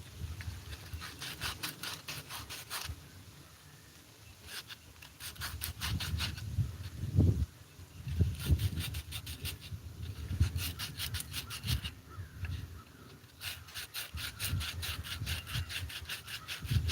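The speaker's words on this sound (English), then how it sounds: "Now I'm sanding them down, and then I'll put them together." Repeated back-and-forth scraping strokes of sanding on wooden egg-holder pieces, steady and close, coming in bursts with short pauses between them.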